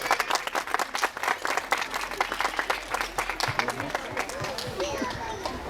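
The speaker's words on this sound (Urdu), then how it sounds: "ایک دفعہ مائیں اپنے لیے تالیاں بجائیں۔" Mothers in the audience at a school annual function break into dense, continuous clapping that fills the whole stretch, with crowd murmur and voices mixed in.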